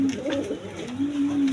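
A pair of red-geared Danish pigeons with three bars coos nearby, a low rolling call that dips and then swells again across the brief stretch.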